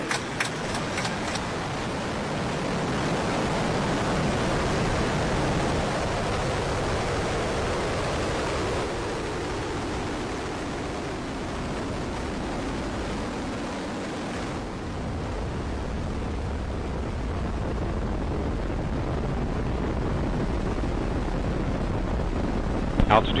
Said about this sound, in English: Ignition and liftoff of Ares 1X.